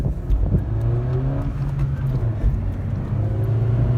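Honda Civic Hatchback Sport accelerating on the road, a steady engine drone rising in pitch as it pulls, heard from inside the car over continuous road and tire noise.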